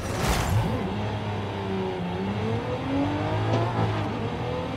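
2022 Cadillac CT4-V Blackwing engine revving hard and continuously in the Forza Horizon 5 racing game, with steady loud drone and shifting pitch sweeps as the car accelerates.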